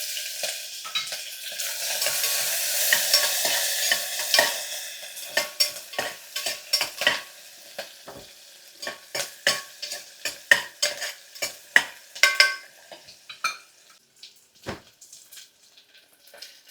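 Chopped onions sizzle in a pan while being stirred for a breakfast dish, a dense bright frying hiss at first that breaks into a quick series of scraping, clattering stirs as the sizzle fades.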